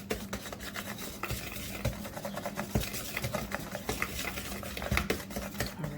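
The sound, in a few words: whisking flour and salt together in a bowl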